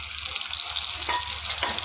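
Potatoes frying with turmeric and cumin powder in a pan for a Bengali potol chingri dish, a steady close sizzle with a couple of brief stirring scrapes.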